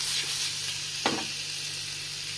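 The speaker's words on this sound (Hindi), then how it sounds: "यहाँ पर हम पनीर को रोस्ट करेंगे अच्छे से" Paneer roasting in a pan gives a steady, close sizzle and frying hiss throughout, with one brief stir or scrape partway through and no voices.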